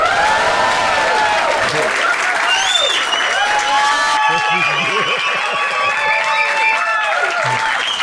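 Loud, sustained applause from a large, lively show audience, with clapping and cheering that carries steadily from start to finish.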